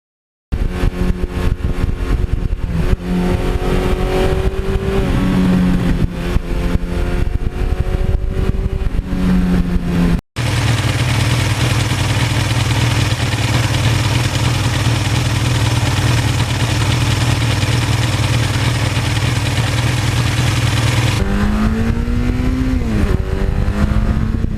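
Engine of a 40-year-old Suzuki GS1100E superbike runs steadily and loud throughout, with rising and falling revs early on, a brief cut near ten seconds, then a sustained deep idle before revving up again at the end.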